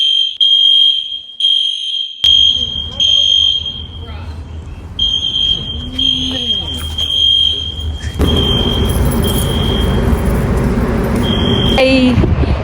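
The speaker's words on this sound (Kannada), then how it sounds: "ಅದೇ ಫೈರ್ ಅಲಾರ್ಮ್ ಆಫ್ ಆಗೋ ತನಕ ಒಳಗೆ ಹೋದರೆ ತುಂಬ ಜಾಸ್ತಿ ಲೌಡ್ ನಾಯ್ಸ್" An apartment fire alarm blares a loud, piercing high beep, first in rapid repeated pulses and then as a near-continuous tone. Traffic and car noise rises beneath it, and faint voices are heard at times.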